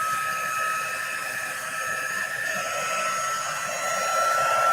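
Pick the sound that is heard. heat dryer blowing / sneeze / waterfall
heat dryer blowing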